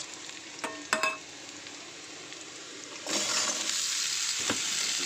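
Pumpkin pieces go into a hot pan with crushed garlic and fry with a loud, even sizzle. A few clattering stirs come early, then the frying swells brighter and steadies, close by, with no voices.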